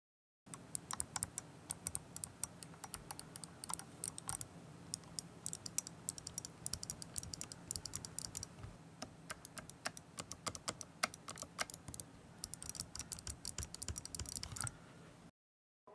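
Keys with Omron switches on an Azeron Cyborg II gaming keypad click rapidly and irregularly for about fifteen seconds, a close, crisp clatter of individual presses and quick bursts with no voice over it.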